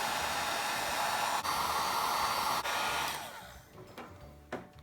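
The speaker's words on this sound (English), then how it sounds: "we're gonna need to heat up the back of the phone with a hot air gun" A hot air gun blows steadily and loudly while heating the back of an iPhone during a battery replacement, a broad hiss that runs for about three seconds before cutting off, leaving quieter handling noises.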